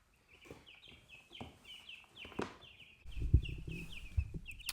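Young chicks under a brooder give a steady run of soft, high, repeated peeping calls at close range, with rustling and scratching movement below that grows louder toward the end.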